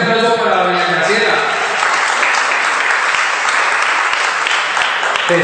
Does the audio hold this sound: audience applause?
yes